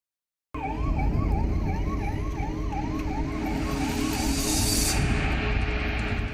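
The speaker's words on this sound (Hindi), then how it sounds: "गहराती रात के साथ मुरैना का बागचीनी इलाका एम्बुलेंस के शोर से गूंज रहा था।" An ambulance siren wails steadily at night in a town district of Morena, Madhya Pradesh, its rising and falling tone repeating over a loud, constant road rumble.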